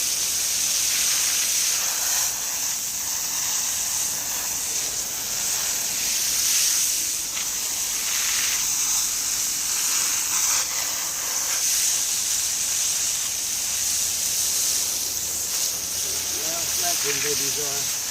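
A steady hissing water spray washes the roots of a bald cypress bonsai during repotting, running continuously, close and fairly loud, with faint voices beneath it.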